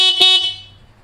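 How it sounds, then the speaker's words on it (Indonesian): A Fiido Q1 electric bike horn gives one short, loud, bright beep that cuts off quickly and leaves only faint low background hum. "Pertama ini ada klakson."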